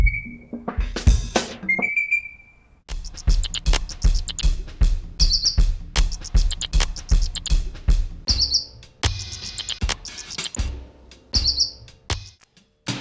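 A bird call sample played from a 4MS Stereo Triggered Sampler (STS) Eurorack module, patched through a fold processor, comes through as loud repeating chirps and tweets over a dense, buzzing processed texture, with no talking.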